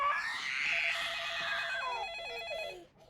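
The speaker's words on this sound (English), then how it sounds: "Why is no one getting the phone?" A telephone rings in a house with a continuous trilling bell tone lasting a few seconds, fairly clear and alone before cutting off.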